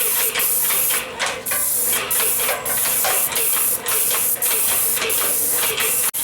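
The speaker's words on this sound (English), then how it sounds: "Perfect sprayer. It's a quality sprayer." Paint sprayer applying ceramic insulating wall coating to house siding, a loud steady hiss that runs nearly unbroken throughout, with brief dips and a sharp cutoff near the end.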